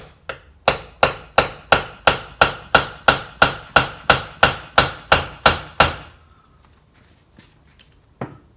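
Steel hammer blows driving an easy out into a broken bar stud on a Stihl MS661 chainsaw: about fifteen sharp, evenly spaced metallic strikes at a steady rhythm, close and loud, then a pause and one faint knock.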